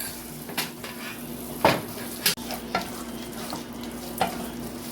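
A thick coconut sugarcake mixture of grated coconut, sugar and vanilla essence is stirred in a pot, giving close, intermittent scraping and soft sticky sloshing with a few sharper knocks against the pot.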